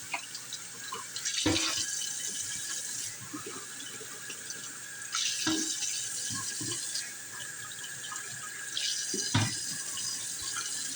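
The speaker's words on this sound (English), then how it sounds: "I'm going to drain the juice to the best I can" Liquid from two cans of black beans draining into a sink, with a few brief splashing bursts over a steady wet trickle and light clatter, close and alone.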